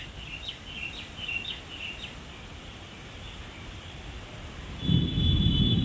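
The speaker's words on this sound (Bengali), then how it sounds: "বাট মেঘ কিন্তু ডাকছে" Thunder rumbling during a windy rainstorm: a deep, loud roll swells near the end, after a stretch of steady wind noise with birds chirping briefly at the start.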